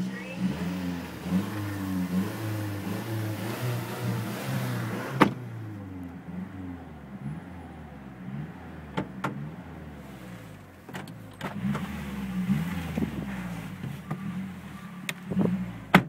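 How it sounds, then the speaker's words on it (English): A car engine idles and revs up several times, rising and falling in pitch, with a few sharp clicks and knocks in between. "Go ahead and give it a nice rev so they can hear this engine."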